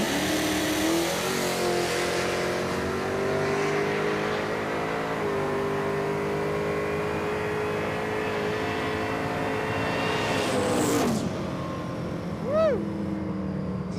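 A Pontiac Firebird making a drag race pass, its engine droning loudly and climbing in pitch through the gears, then cutting off abruptly near the end, leaving faint distant sounds.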